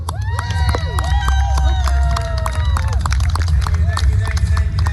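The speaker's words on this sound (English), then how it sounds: "Come out, Garen Armstrong, round of applause" A rally crowd cheers and applauds as a speaker comes out, with many voices shouting and whooping over loud clapping and a deep background rumble.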